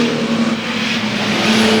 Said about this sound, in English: Away go the cars.